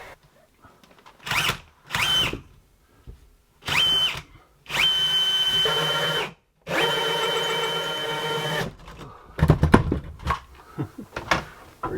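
A large, slow, probably dull drill bores through the wall of an off-grid cabin, running in several separate loud bursts with brief pauses between them, then rattling and knocking toward the end.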